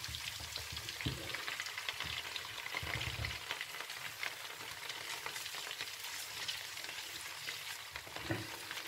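Red chillies frying in hot fat for a chana and mash dal, a steady close crackling sizzle with a few soft thuds and scrapes, alone without talking.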